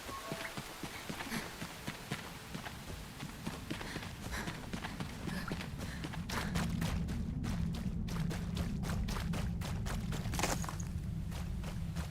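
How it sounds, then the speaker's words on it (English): Footsteps run through rain-soaked mud in the video game Enshrouded, rapid and squelching, growing heavier and denser midway, with no voices. "It sounds like you're running through mud."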